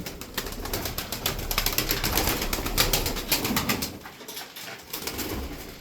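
Tumbler pigeons, play birds kept in a flock, coo softly and flap their wings close by, with bursts of rapid wingbeats running through several seconds of steady bird noise.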